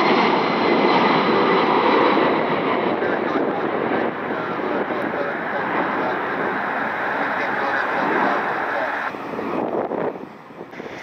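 A Delta airliner, flight 1240 inbound from Atlanta, passes over Detroit Metro Airport on a cool, lightly breezy day: a loud, steady broadband jet roar that holds for about ten seconds before easing off at the end.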